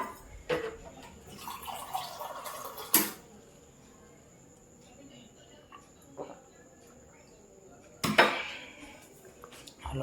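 A glass clinks against hard surfaces as someone pours and drinks water at home in the evening. A few sharp knocks and rattles stand out against near silence, with brief watery splashes between them.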